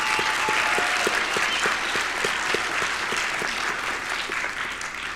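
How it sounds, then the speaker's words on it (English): Steady, sustained applause from a large crowd at a 2023 winter STEM commencement ceremony, with dense overlapping hand claps continuing evenly throughout. "I want to applaud all of the family and friends, both in the audience, at home, watching online, or stuck at work."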